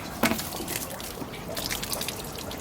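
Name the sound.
water being emptied from a filter box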